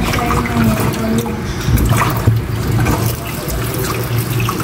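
Tap water runs and splashes continuously at close range as a tomato is rinsed under it, a steady rushing flow with no voices.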